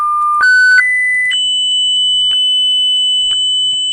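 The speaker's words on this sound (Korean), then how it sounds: "진동수가 커지면서 소리가 높아지는 걸 들을 수가 있어요" A pure electronic test tone steps upward in pitch as its vibration frequency is raised, jumping through several distinct higher steady beeps before holding one loud sustained whistle, with faint clicks and no talking.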